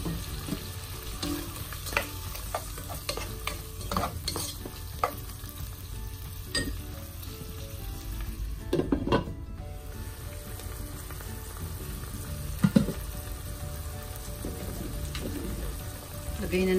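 Shrimp sizzles in a hot pan during stir-frying for green beans and carrots, a faint steady crackle with occasional stirring clinks and scrapes.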